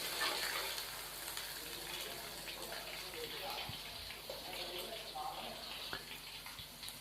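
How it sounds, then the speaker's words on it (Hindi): Ginger garlic paste frying in a pot for black chickpea pulao, giving a steady, fairly faint broadband hiss with a few soft clinks from stirring. "अदरक और लहसुन के पेस्ट को शामिल करने के बाद हमने इसको अच्छे से मिक्स किया और अब हम इसको 1 मिनट के लिए फ्राई कर लेंगे"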